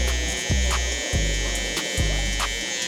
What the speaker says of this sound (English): So now we'll come in with our trimmer and we're gonna bald out right below.